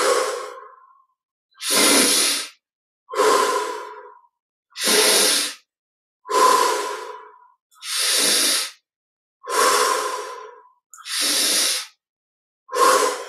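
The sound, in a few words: breathing in through the nose, out through the mouth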